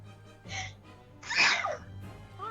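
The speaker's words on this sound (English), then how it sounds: "it's a sneeze attack" A person sneezes during a video game playthrough, a brief gasp followed by a loud sharp sneeze, with faint game background sound around it and no talk.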